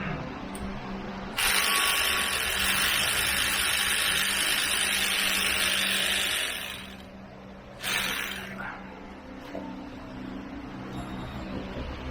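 An electric power tool whirs steadily for several seconds while removing a 12mm bolt from Toyota front brakes, then stops and gives a brief second burst, with faint background hum between.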